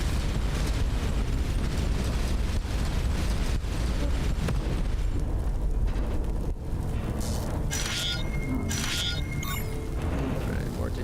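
A missile explosion in the space game Starcom: Unknown Space makes a dense, loud, sustained roar of blasts and rumble. It thins out halfway through, leaving scattered electronic pings and tones.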